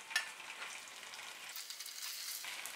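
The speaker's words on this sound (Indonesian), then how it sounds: "Nanti digoreng sekitar 10 menit ya, untuk kedua belah sisi." Chicken pieces fry in hot oil in a home kitchen, a soft, steady crackling sizzle with occasional sharper pops, heard alone and fairly faint.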